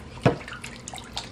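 Water pours into a container while a homemade natural drink is mixed, a bright splash followed by lighter trickling and dripping sounds, close and alone.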